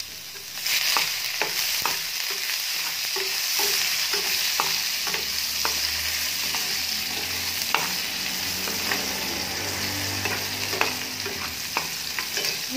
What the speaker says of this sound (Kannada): ಸೊ ಇವಾಗ ಸ್ವಲ್ಪ ಒಗ್ಗರಣೆಗೆ ಈರುಳ್ಳಿ ಹಾಕ್ಕೋತಾ ಇದ್ದೀನಿ